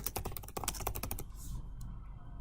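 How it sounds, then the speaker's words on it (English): Fingers type quickly on a computer keyboard, a dense run of crisp, close key clicks that stops partway through, leaving a short faint tap and quiet room tone. "I start by typing in the address"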